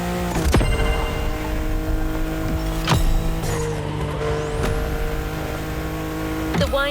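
A car in the video game The Crew Motorfest drifts through sharp turns on a winding Hawaiian mountain road, its engine droning loud and steady, with several sharp transient hits and a rising whine near the end.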